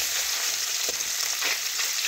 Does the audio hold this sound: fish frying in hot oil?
yes